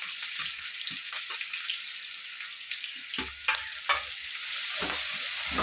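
A ground paste of green chillies and sesame fries in a pan for a banana-flower dish, with a loud, continuous sizzle and bursts of stirring and scraping close by.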